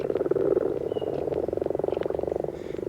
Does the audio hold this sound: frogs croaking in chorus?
yes